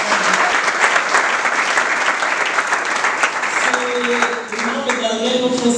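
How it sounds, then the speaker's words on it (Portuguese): Sustained applause from a church congregation at a Pentecostal anniversary celebration and conference, steady clapping filling the hall with crowd murmur, and a faint tonal sound rising near the end. "uma salva de palmas para todos"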